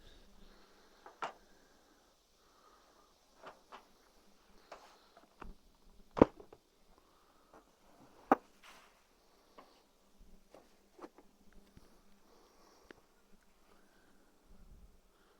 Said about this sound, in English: Looks like there's a lot of bees up here too.